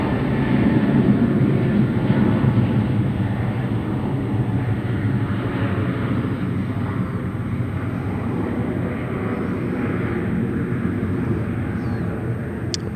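A jet airliner takes off at San Francisco International Airport, its engines a loud, sustained broadband roar that holds steady throughout with no talk over it.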